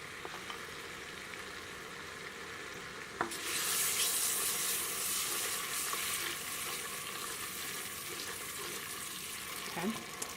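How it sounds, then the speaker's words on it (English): Condensed cheddar cheese soup goes into a macaroni and cheese dish with a wet, rising sizzle-like rush. It starts after a short thud and stays steady and fairly quiet until a clink near the end. "now we're going to go ahead and add our cheese, the condensed cheddar cheese soup"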